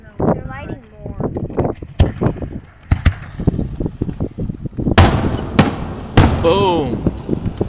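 Fourth of July fireworks going off about 420 feet away, a series of sharp booms and crackles scattered through the clip amid a chattering crowd, with people talking and calling out nearby.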